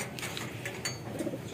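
Racing pigeon in a loft giving soft, low coos while being picked up, faint and murmuring against a steady background hum, with no talk.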